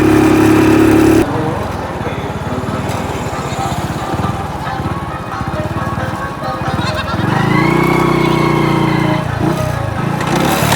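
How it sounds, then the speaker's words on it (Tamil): A vehicle in a procession rolls past close by with a steady low engine drone and rumble, with higher whining and bleat-like tones layered over it throughout, rising briefly toward the end. "இதில் அடுத்த வாகனம் போகுது."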